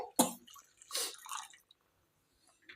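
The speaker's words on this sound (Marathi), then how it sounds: "आता यामध्ये आपण पाणी गरम करून घेतलं होतं ते टाकून घेणार आहे" Hot water is poured into a spicy Marathi-style egg curry masala, giving a few short splashy gurgles in the first second and a half, then quiet with a faint splash at the end.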